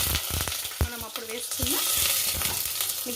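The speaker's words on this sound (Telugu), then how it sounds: "అందులోకి ఎండుమిర్చి, కరివేపాకు వేసుకోవాలి" Mustard seeds, dried red chillies and curry leaves sizzle and crackle in hot oil for Andhra-style rasam, a steady close frying hiss with scattered pops and stirring scrapes.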